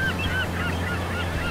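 Cartoon birds call over a seaside scene with a dock, seaweed and kelp in a children's museum setting, a few thin honking, goose-like cries drifting above a steady low background hum, with no talk.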